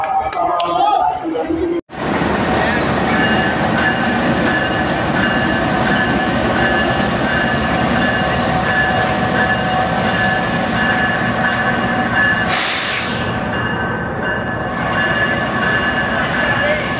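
The Shah Hussain Express, a sixteen-by-32-load train with ten economy coaches, rumbles steadily along platform 2 of a busy railway station, loud and close, its wheels clattering and squealing, with crowd chatter and a passing burst of hiss.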